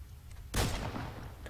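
A single close, loud gunshot in the western video game Red Dead Redemption, a sharp boom with a rumbling tail over the game's low background ambience.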